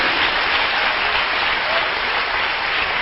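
Loud, sustained applause from a church congregation praising the Lord, a dense, even roar of many hands clapping with no break.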